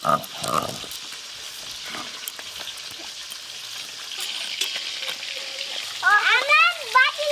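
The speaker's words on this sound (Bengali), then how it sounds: "মাছগুলো খুব লাল লাল করে ভেজে নিয়েছি, এবার তুলে নেবো" Fish sizzles and crackles steadily in hot oil, close and moderately loud, with a few clinks of utensils at the start and a voice briefly chattering near the end.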